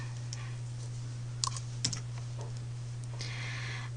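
Faint keystrokes on a computer keyboard, a few scattered clicks and a short burst of typing, quiet over a steady electrical hum, with no voices.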